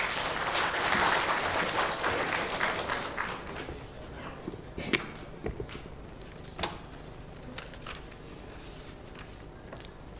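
An audience at an investors awareness meet in Imphal applauds: steady, dense clapping from a crowd that fades out over several seconds, leaving a few scattered claps and knocks in a quiet hall.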